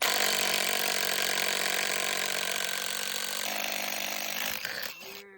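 A power drill bores a 3/4-inch bolt hole through wood for a farm gate hinge on a rural homestead, a loud continuous whine that shifts pitch partway through and winds down at the end.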